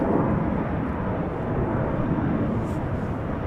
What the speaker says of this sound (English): Bizjet also taking off.